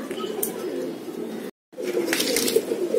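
Pigeons coo softly in a loft in Khulna, a low continuous murmur of several birds with a short silent gap midway, close by.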